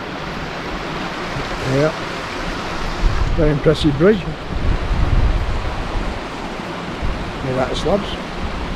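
Distant waterfall near Bronte Bridge in Yorkshire, a steady broad rushing roar that runs through the whole stretch under wind noise, with people talking briefly over it.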